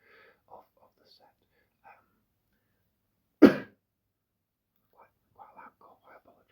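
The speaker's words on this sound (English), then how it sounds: "Quite loud cough, I apologise." One loud, sharp cough breaks through otherwise quiet, soft whispering, close to the microphone.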